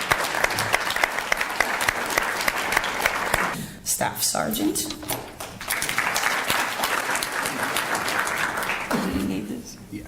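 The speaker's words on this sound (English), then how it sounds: "You can give yourselves a round of applause for that." Audience applause at a human rights learning forum, sustained clapping from a room of people that briefly dips mid-way, with a voice speaking over it near the start.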